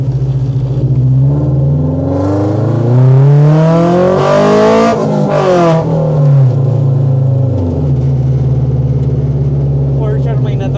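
A loud car engine revving hard, the pitch climbing and falling in a big sweep, then settling to a steady rumble, close and dominant throughout.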